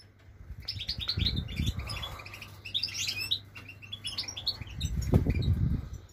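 A pet goldfinch or canary sings in bursts of bright chirps and trills, close and lively, with low bumps and rustling around it.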